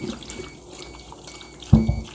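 Food is rinsed under a running kitchen tap, a soft trickle of water followed by a sudden louder gush and splash near the end.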